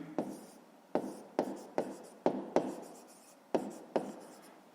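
A pen writes by hand on paper while working a fifth-grade math exercise, producing about eight distinct scratchy strokes in an uneven rhythm. Each stroke starts with a sharp attack and quickly fades, heard close and quiet with no talking.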